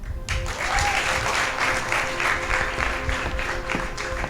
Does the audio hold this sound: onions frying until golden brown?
no